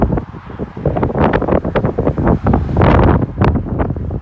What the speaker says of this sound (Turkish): Hava hafif rüzgarlı ama mis gibi bir hava var.